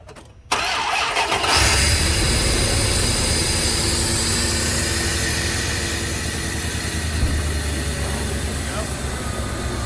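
A truck engine cranks and catches after its idle air control valve is replaced, then settles into a loud, steady idle that runs on unbroken, with the air intake still off.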